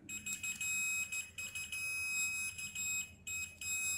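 A multimeter on continuity setting beeps in steady high-pitched tones against a shorted armature whose commutator touches the body, repeated beeps broken by short gaps, fairly quiet with no talk.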